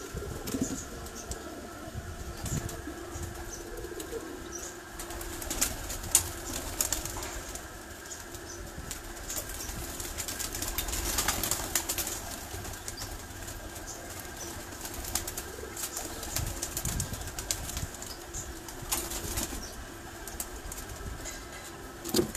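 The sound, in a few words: Imamdin pigeons cooing and flapping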